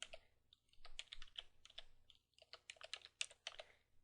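Fingers tap out a passphrase on a computer keyboard in quick irregular bursts of close, quiet key clicks with short pauses.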